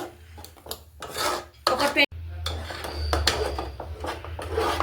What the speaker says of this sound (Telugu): ఇది అడుగు అంటకుండా కలుపుతూ ఉడికించుకోవాలి అప్పుడప్పుడు